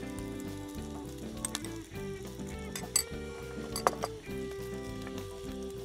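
Salo burger patty frying with cheese melting on top, a steady close sizzle with occasional metallic clinks of a utensil against the pan.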